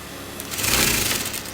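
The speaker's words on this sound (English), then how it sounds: "So I'm using a big stretch in my sewing machine." A sewing machine runs a long basting stitch through frock fabric, a fast, steady mechanical whir close up that swells slightly in the middle of the short burst.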